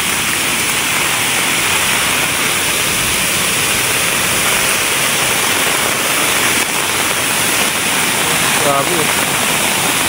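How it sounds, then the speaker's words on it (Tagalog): A strong river current rushes past at a mountain crossing, giving a loud, unbroken roar of churning water close by that fills the whole stretch, with a brief voice heard over it. "Sobrang lakas ng agos ng ilog."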